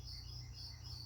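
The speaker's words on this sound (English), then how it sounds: "as you can hear the crickets again that are forever my friends here" Crickets chirping in the early morning outside a garage: a steady, faint, high insect trill that runs on without a break over a low background hum, and no one is speaking.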